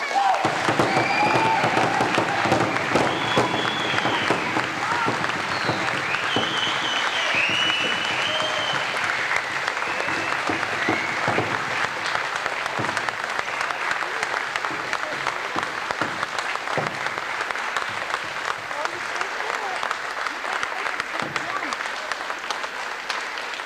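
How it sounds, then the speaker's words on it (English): A long, even wave of audience applause greets the 1984 graduating class at an SKC graduation ceremony, with a full hall of clapping and occasional cheers, and voices carry faintly beneath. "Let's give them all a round of applause."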